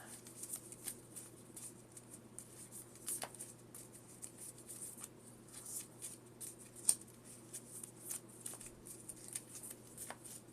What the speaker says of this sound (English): Then I'm going to shuffle.